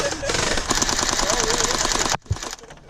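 An RX AKM47 gel blaster firing full-auto with recoil, a fast, even mechanical rattle of shots close to the mic for about two seconds, then stopping abruptly, with a voice heard faintly underneath.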